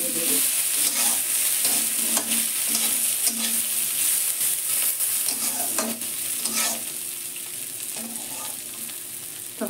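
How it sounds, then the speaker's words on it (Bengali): Lentils and split chickpeas (chana dal) dry-frying in a pan, with a steady sizzle and repeated scraping strokes of a spatula stirring them throughout, close and continuous with no voices. "ডালটা আমি ভেজে নিচ্ছি। ছোলার ডালটাও দিচ্ছি"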